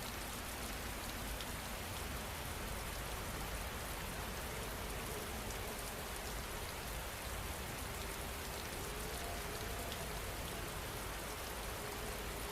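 Steady rain falls in a dense, even hiss of drops on surfaces, continuous and soft at low level, with no voices.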